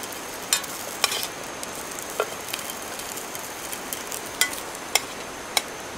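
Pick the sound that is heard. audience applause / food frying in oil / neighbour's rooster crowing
food frying in oil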